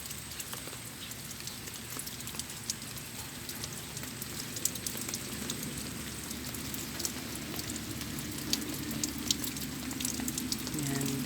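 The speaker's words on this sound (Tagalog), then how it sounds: "So, umuulan-ulan po ngayon." Steady rain patters continuously on surfaces at a farm with freshly harvested rice fields, a dense hiss with scattered drips throughout, fairly quiet and even.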